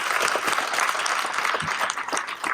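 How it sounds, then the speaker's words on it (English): Dense, steady crowd applause at a motorcycle ride run event, a close wash of many hands clapping at even loudness throughout with no talk over it. "let's give a hand clap again for them."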